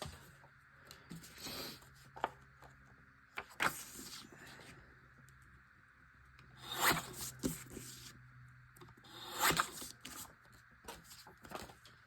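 Photos for a nautical scrapbook page are trimmed with a paper trimmer, four long rasping blade slides spaced several seconds apart, close and quiet with small clicks between.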